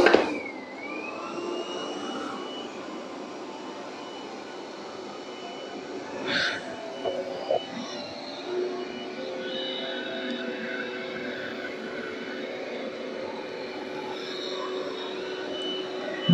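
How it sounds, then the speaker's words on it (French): A Conga 11090 laser robot vacuum with self-emptying runs on strong suction over a carpet, giving a steady, moderately loud whir that continues without break, with a few brief bumps and clicks along the way. "il continue en aspiration forte sur le tapis"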